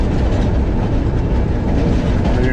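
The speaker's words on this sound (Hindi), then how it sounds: "ये ट्रेन हमारी पास हो रही है" A passenger train on the Lala Musa–Shorkot branch line passes close by near a flag station, a steady loud rumble of wheels and carriages filling the whole stretch.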